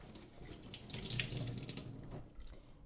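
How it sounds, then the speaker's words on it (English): A handful of fresh coriander leaves is rinsed under a running kitchen tap, heard as a close, continuous stream of water splashing into a sink that tapers off at the end. "if you just have coriander, give it a wash"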